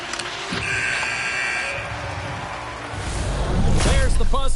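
A hockey arena buzzer sounds to end the period, a long harsh sustained tone blaring over crowd noise before the crowd swells louder and a voice comments at the end.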